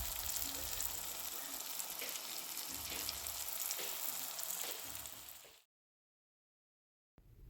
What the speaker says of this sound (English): I just put them straight in the flour, fried them up.